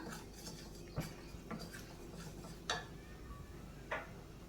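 A spoon stirs Kashmiri chili powder and turmeric into egg curry masala in a pan, with a few soft scraping taps against the metal at a steady pace, close and fairly quiet, with no talking.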